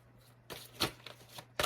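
Tarot cards are riffled and shuffled close up, with a soft opening rustle, a sharp snap near the middle, light flicks and a final burst of shuffling, and no talk.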